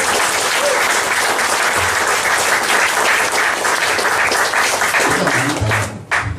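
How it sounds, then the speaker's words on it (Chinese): Dense, loud applause from an audience at a direct-selling talk in Rochor Centre, steady clapping filling the room for about six seconds before breaking off abruptly. "掌声。"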